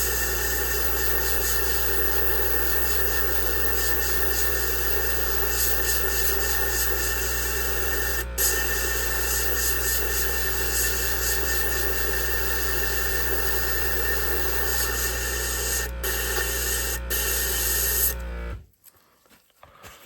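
An airbrush blows isopropyl alcohol cleaner through its nozzle during cleaning for scale modelling, a steady loud hiss of air lasting many seconds before cutting off abruptly.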